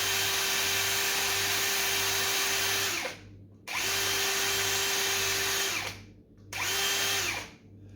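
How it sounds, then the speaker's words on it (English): A power tool whines loud and steady while polishing a steel suspension bush on an HQ GTS Coupe. It runs in three bursts with brief pauses between them. "Just polish it through until you just see steel start to shine through"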